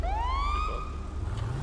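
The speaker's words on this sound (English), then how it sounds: "let's get the siren going" Police car siren in the video game GTA 5, switched on with a single rising electronic wail that sweeps upward and holds, loud and close, over low engine rumble.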